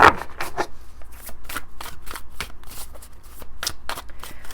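Tarot cards shuffled by hand close up, a steady run of quick riffling and soft slapping bursts with no talking.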